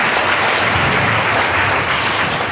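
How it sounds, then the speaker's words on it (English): Students clap for visitors at a school gathering, a dense, steady round of applause from a sizable group, loud and continuous with no talking. "can you please clap for these visitors?"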